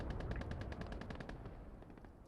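Rapid gunfire from the World War II strategy game Call to Arms: Gates of Hell, a dense stream of close automatic shots rattling steadily with no talk over it.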